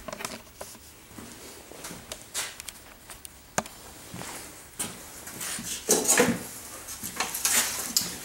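Metal bucket holding hardwood pieces being handled indoors, with repeated clanks, knocks and wooden clatter, close and fairly loud, getting busier toward the end.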